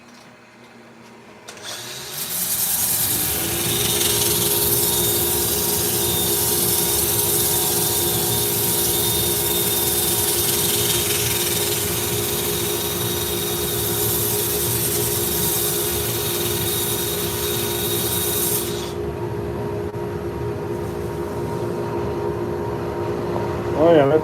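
A wood lathe spins up and runs steadily while turning a bowl, a loud sustained motor whine and hum with a high-pitched sanding hiss over it, then winding down near the end.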